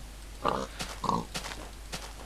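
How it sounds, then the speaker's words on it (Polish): A pig in a spawner in Minecraft gives two short grunting oinks about half a second apart, followed by softer in-game clicks and rustles in a quiet setting. "Tutaj jest świnia w tym spawnerze"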